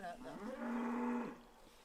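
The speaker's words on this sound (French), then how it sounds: "Ici nous avons une petite vache." A small cow gives one drawn-out, close moo that rises into a steady low note and then fades, heard alone with no talk.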